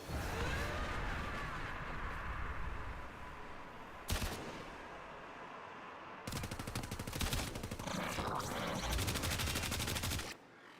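Rapid bursts of video game gunfire fill the scene in dense automatic volleys with brief pauses between them, loud and close with no talking.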